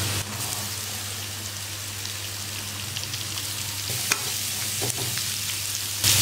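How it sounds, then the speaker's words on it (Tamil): Chopped beetroot fries with softened onions and turmeric in a pan, a steady, close hiss of sizzling oil like light rain, broken by a few faint clicks and stirs. "இப்போ கட் பண்ணி வச்சுக்கிற பீட்ரூட் போட்டுக்குங்க"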